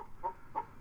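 Chickens in a chicken coop give two soft, faint clucks about a third of a second apart against a low background hiss.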